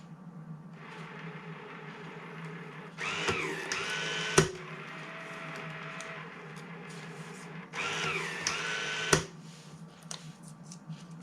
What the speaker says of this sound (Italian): tramite il tasto verde qua della stampante lo mandiamo in stampa.